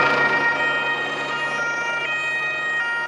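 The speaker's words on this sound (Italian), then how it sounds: "Le sirene squarciano il silenzio della notte di Palermo" Wailing police sirens cutting through the night in Palermo, a loud steady electronic tone holding close and continuous over faint traffic rumble.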